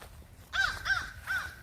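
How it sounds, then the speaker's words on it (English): A crow caws loudly three times in an evenly spaced series, close by and harsh, over a quiet background. "Okay, that was a loud bird. I think it's a crow."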